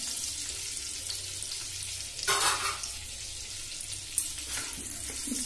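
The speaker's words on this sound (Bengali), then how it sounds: "দুটো তেজপাতা, সাদা জিরে আর গরম মশলা, গোটা গরম মশলা ফোড়ন দিয়ে দিলাম।" Bay leaves, cumin and whole garam masala crackle and sizzle in hot oil, a steady close fry with a louder burst of spitting midway and a brief sharp pop near the end.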